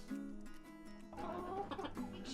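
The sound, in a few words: roosters crowing and clucking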